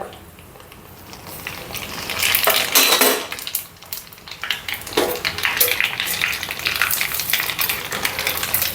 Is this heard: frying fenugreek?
yes